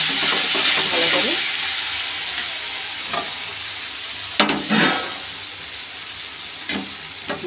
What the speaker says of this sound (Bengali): এই যে টমেটো কাঁচা লঙ্কাটা ভাজা হয়ে গেছে ভালো করে।